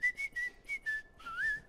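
Vocal nose whistle imitating a cartoon sound effect: a short series of high, wavering whistled tones with tiny breaks, finishing in a rising slide, close and clear.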